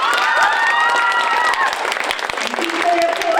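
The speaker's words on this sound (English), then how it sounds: "People applause going for Danny." Applause and cheering from a poetry slam audience after a high school poet's scores are read, steady clapping with whoops and excited voices rising above it, loud and close, thinning toward the end.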